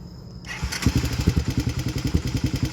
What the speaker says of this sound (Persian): خب با اولین آپشن موتور شروع میکنیم با استارت از راه دور